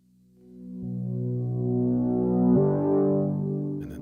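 Eurorack modular synth subharmonic drone through a fully wet reverb, a smooth sustained low tone that swells in and shifts pitch partway, ringing out alone.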